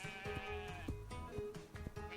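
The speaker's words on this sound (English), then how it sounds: "The sheep." Sheep bleating on a farm, several nasal wavering bleats close by in quick succession, fairly faint overall, with no talking over them.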